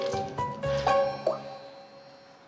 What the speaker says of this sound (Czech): Polil mě vodou.